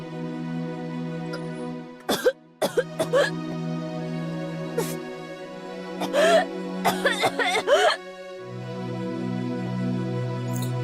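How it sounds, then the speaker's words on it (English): A woman coughs painfully from an asthma attack, a few sharp bursts spaced through a quiet room with a steady hum, then a cluster of strained coughs and breaths near the end. "And yet, the coughing continued."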